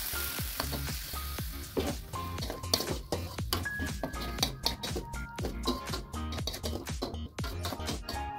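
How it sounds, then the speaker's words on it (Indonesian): Long beans and carrots stir-fried with spring onion in a pan sizzle steadily as water goes in, with a dense, loud hiss broken by frequent sharp clicks and scrapes of the spatula, and no talking. "Kemudian masukkan daun bawang, tambahkan air secukupnya"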